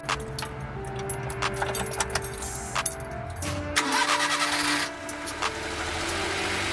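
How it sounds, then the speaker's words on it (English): A 1994 Suzuki Every kei van engine is cranked and starts, with keys jangling and rattling handling noises before a brief starter whir, then the engine catches and settles into a steady idle hum, close by. "Now we're gonna start the car, let it run for a bit"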